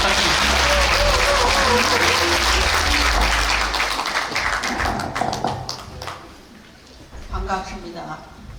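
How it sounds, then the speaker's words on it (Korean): A hall audience claps at a Liberation Day unification rally in the National Assembly members' hall, loud at first and then thinning into scattered claps, with voices and clatter toward the end. "여러분 큰 박수 부탁드리겠습니다."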